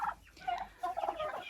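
Young poultry chicks kept alongside free-range turkeys cluck and chirp in short, overlapping bursts, fairly close and moderately quiet, with no talking.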